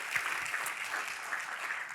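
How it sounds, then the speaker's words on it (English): An audience applauds the MCs at a morning conference welcome session, a steady, even wash of many hands clapping at moderate volume, continuing throughout without voices. "So let's give them a round of applause."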